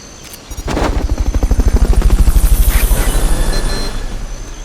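Rotor thumping of an approaching helicopter in Metal Gear Solid Peace Walker, a loud, steady rhythmic chop that swells in and holds close, with a low engine drone underneath.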